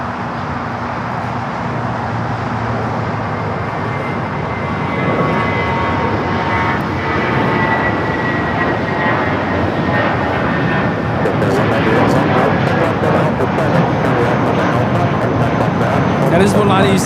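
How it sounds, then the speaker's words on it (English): A Volaris A320 airliner takes off at LAX, a sustained engine roar swelling as it climbs, with people talking over it and faint traffic in the background. "That is Volati 7849 taking off to Oaxaca on the A320."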